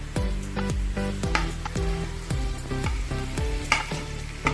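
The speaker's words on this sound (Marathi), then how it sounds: "चांगला कांदा भाजू दे" Onions fry in a pan for a paneer roll, a steady sizzle with a series of rhythmic scraping strokes as they are stirred, close and clear with nobody talking.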